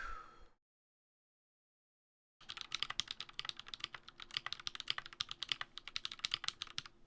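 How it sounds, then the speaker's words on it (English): Dense, steady keystrokes on a GMMK Pro keyboard fitted with Glorious Lynx switches, close and crisp, begin after a brief silence and continue in a quick typing rhythm with no talking. "we'll see here how the typing test goes"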